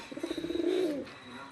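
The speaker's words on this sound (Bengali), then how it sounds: "তো পায়রার কোয়ালিটিগুলো দেখে নিন, আজকেই এসছে পায়রা" A pigeon gives a single short rolling coo, close and fairly clear, with a faint background hum and no talk.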